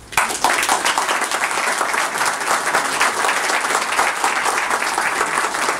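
A university ceremony audience applauds the dean of the Faculty of Philosophy and Humanities after her speech, a loud, continuous round of clapping that starts abruptly and stays even throughout.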